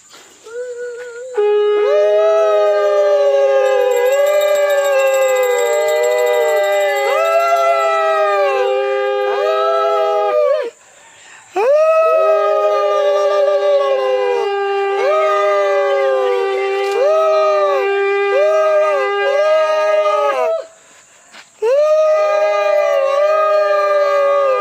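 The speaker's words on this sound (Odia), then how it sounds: "ହଁ ଶଙ୍ଖ ଟିକେ ଫୁଙ୍କି ଦିଅ" A conch shell blown during a home puja, three long sustained loud blasts with slight pitch wavering, separated by short breaths.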